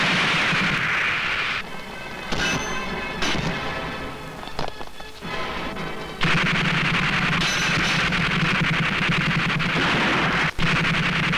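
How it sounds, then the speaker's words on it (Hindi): Rapid bursts of gunfire from an action movie, The Don (1995), crackle loud and dense, with brief pauses between volleys and sharp single shots standing out, with no talk. "कौन गोलियां चला रही है?"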